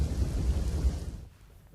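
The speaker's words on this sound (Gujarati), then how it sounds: "યાત્રાધામ દ્વારકામાં વરસાદ છે તે મહેરની બદલે કહેર વરસાવી રહ્યો છે" Heavy monsoon rain pours over Dwarka, a deep, loud rushing wash with low rumbling that fades sharply near the end.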